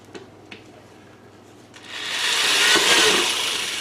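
A power drill with a 1/8 inch bit whirs up after a couple of light knocks, boring into a metal can just under the lip, its steady high-pitched grinding bite continuing loudly to the end.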